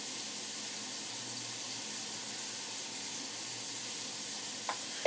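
Celery, carrots and squash sweat in a soup pot with a soft, even sizzle, faint and steady throughout, with a brief clink near the end.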